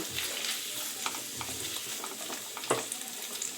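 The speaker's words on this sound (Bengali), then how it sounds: "তো এগুলোকে একটু আমি লাল লাল করে ভেজে নেব" Paneer pieces frying in hot oil in a pan give a steady, close sizzle, with occasional scrapes of stirring and a brief louder crackle near the end.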